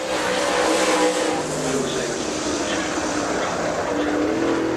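Steelhead 525 race car on its qualifying lap at Dixie Speedway, a loud sustained engine drone with shifting pitch as it circles, mixed with track ambience and voices.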